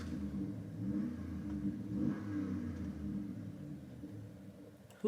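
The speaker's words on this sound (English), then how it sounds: "Who is just revving their truck outside?" A truck engine revving outside, a low, muffled rumble rising and falling at a distance, with a sharper burst of noise right at the end.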